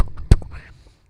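A beatboxer's mouth imitates a kick drum with one deep, punchy thump near the middle, preceded and followed by soft breathy mouth sounds and no clear words.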